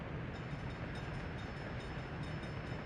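Train rolling along tracks in Workers & Resources: Soviet Republic, a faint, steady rumbling drone with soft periodic clicks, heard alone without talk.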